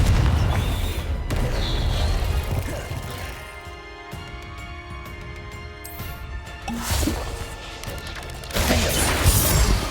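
Confringo fire explosion spells in the Hogwarts Legacy video game, several booming blasts and crackling impacts among other spell effects, with a loud burst near the end.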